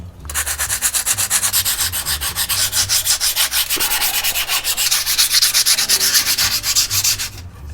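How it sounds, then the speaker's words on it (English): A pickleball paddle surface roughened by hand with sandpaper, loud steady back-and-forth rubbing strokes in a fast even rhythm close up, with no voices. "we're first actually gonna take this sandpaper type of stuff and kind of sand down the thing here"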